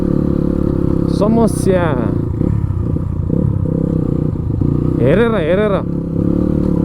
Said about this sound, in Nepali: बाइकको साउन्ड झन् मजा आउने